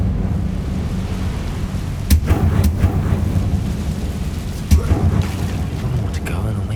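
Incendio fire spell cast in Hogwarts Legacy, loud rumbling roar with two sharp cracking bursts over a continuous booming, stormy low-end bed.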